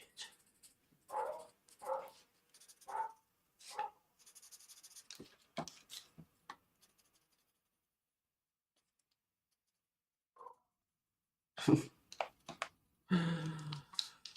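A dog barks a few times in short bursts, then again after a quiet stretch, fairly close and moderately loud, with no talking.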